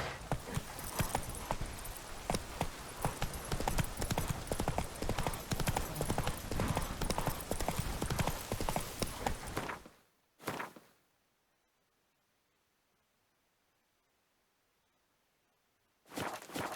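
Horse hooves clip-clopping in the video game The Witcher 3: a dense, steady run of loud hoofbeats that stops abruptly, followed by near silence broken by two brief bursts of sound.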